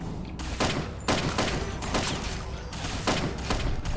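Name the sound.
gunfire in video game Fallout: Tale of Two Wastelands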